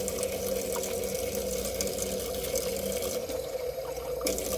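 Tap water running steadily through a ceramic slip trail bottle in a classroom, a continuous rushing and gurgling flow with no talk over it.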